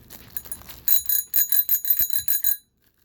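A handlebar-mounted bicycle bell, just unboxed, rings close and bright in a quick burst of about eight metallic dings, then falls silent.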